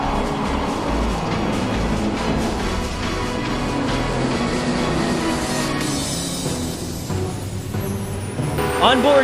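Race cars in a racing video game at Indianapolis scream past at around 190 mph in a dense, continuous roar of engines, steady and loud throughout, with a commentator talking over it.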